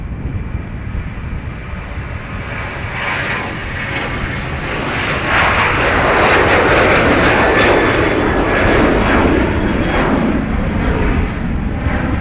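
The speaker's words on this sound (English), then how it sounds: "Ryanair to Lanzarote rolling." Ryanair jet airliner bound for Lanzarote rolling for takeoff on runway 28R at Dublin Airport, a steady broad engine roar that swells louder and fuller partway through as thrust builds, close and continuous with no talk.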